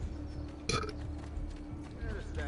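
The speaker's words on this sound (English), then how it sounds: "Now you guys are getting all my burps" A single short burp from a man playing Assassin's Creed 2 erupts near the mic, standing out over steady game background sound.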